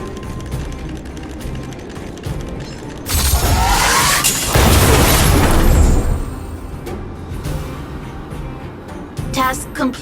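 Automaton Spiders detonate in the video game Honkai Star Rail, a burst of loud, rumbling blasts and crackling that lasts several seconds over a mechanical clattering game soundscape.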